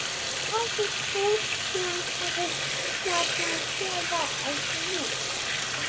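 Hot water runs from a tap into tepid water for washing wool, making a steady, close, hissing rush. People talk over the running water.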